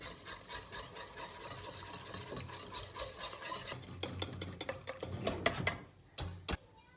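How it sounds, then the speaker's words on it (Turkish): Steady rasping, scraping strokes of a whisk beating a spiced sauce of salt, black pepper, chili flakes and red pepper powder in a bowl, close and continuous with a few sharper clinks near the end. "Güzelce bu sosumu çırpıyorum."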